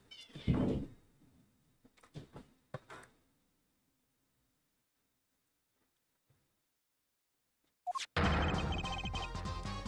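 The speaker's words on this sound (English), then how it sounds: "Oh my god, my cats are fighting." Cats fighting just outside a door, with a few loud yowling bursts early on, a long silence, then a sudden loud thump and a sustained noisy scuffle at the end.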